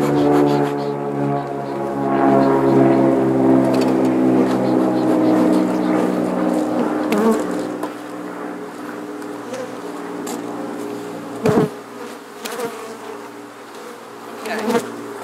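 Honey bees swarm and buzz around an open hive being split during a dandelion flow, a dense steady drone up close that thins out partway through, with a few sharp knocks of frames near the end.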